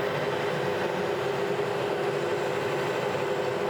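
Metal lathe turning a motor coupling bushing on a final pass, a steady continuous mechanical hum and whir at moderate level with no speech.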